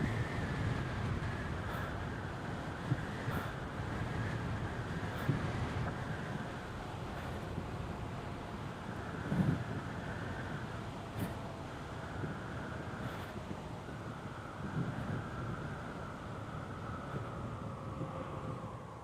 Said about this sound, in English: Got a lot of wind down here.